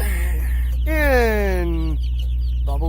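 Baby chicks, Cornish Cross, Red Ranger and Asian black birds, give one clear, drawn-out descending peep over a steady low hum, followed by a short chirp at the end.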